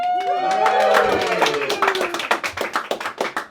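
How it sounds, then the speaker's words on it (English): An audience at a live monologue performance event claps, a dense burst of applause that thins into scattered individual claps, while a few voices call out over it. "Keep clapping to fill out the time."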